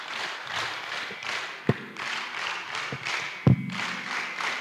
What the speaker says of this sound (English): A more innovative hand of applause to the presenters.